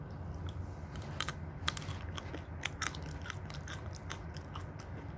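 Someone chewing crunchy almonds, with sharp close crunches and bites scattered irregularly over a low background hum, without talk.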